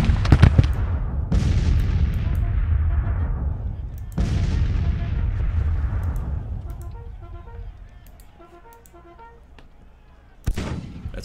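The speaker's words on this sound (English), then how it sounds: "that was effective artillery fire" Civil War artillery fires in the strategy game Grand Tactician: The Civil War during the Battle of Chickamauga. Three heavy cannon booms roll out with long decaying tails, then a sharper blast lands near the end.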